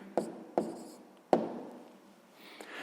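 A pen writes an answer by hand, with three sharp taps followed by soft scratching strokes, close and quiet.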